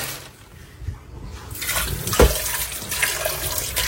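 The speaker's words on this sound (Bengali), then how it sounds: "আমি ভালো করে মাংসটা ধুয়ে নিই।" Qurbani meat being rinsed under a running kitchen tap, a steady close hiss of flowing water with splashing bursts as the meat is handled, no voices.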